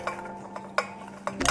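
Chopped onions going into a pan for a cauliflower steak sauce, heard as a few short clinks and clatters of utensil against cookware, with a louder sizzling burst at the end.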